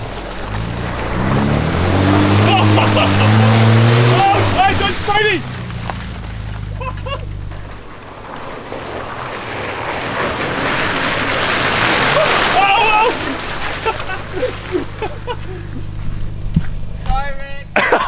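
An off-road 4x4 ploughs through a muddy water crossing, its engine droning amid sloshing and splashing water. People talk excitedly over the sound throughout.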